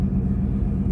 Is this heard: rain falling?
no